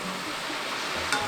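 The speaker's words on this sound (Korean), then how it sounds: "노릇해질 때까지 튀겨주세요." Ramen noodles deep-fry in hot oil for a Korean sweet snack, making a continuous bubbling sizzle with a small crackle near the end, steady and unaccompanied by speech.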